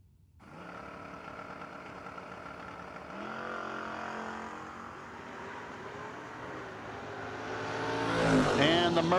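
At a no-box drag race, a 1990 Camaro and a Mercury Capri idle loudly at the line, engines droning with steady tones that rise as the revs build toward launch, while an announcer talks over the rumble.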